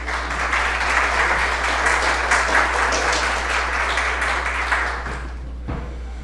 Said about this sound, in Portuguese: Então, uma salva de palmas para o nosso colega D'Alessandro, por favor.